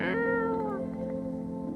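A cat meows in a video game: one drawn-out meow that slides downward, then a lower sustained tone hums on beneath it, close and clear, with no talking.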